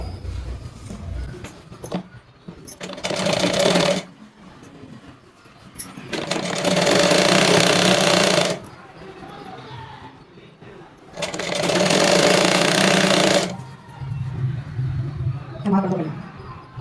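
Sewing machine stitching the folded side seam of a blouse during a tailoring class, running in three loud bursts of steady mechanical whirring a couple of seconds each, with someone talking between the runs.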